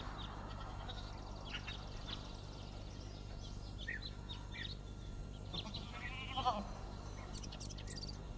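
Sheep bleat intermittently at a distance over a steady low background hum, with several faint short calls scattered across the span and one slightly louder cry near the end.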